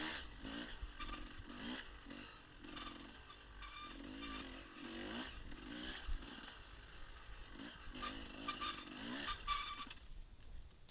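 An enduro dirt bike engine on a trail, revving and sputtering roughly as it struggles and stalls, loud and close for most of the stretch before dropping away near the end.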